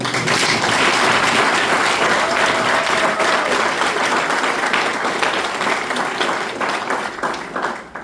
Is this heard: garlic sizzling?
no